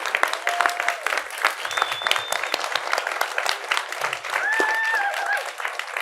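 Enthusiastic audience applause for Matthew Rolston at an ArtCenter Lifetime Achievement Award event, a dense sustained clapping from a crowd with a few whoops rising over it.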